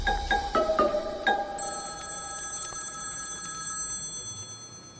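A telephone rings with a repeated electronic bell tone, several short bursts followed by a sustained ringing pattern, moderately close in a quiet room.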